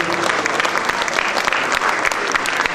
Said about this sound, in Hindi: और मैं चाहता हूँ कि एक बार जोरदार तालियां हो जाए।